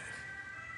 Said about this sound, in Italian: Vedete, questo rumore è un'ambulanza che fra un attimo vedremo.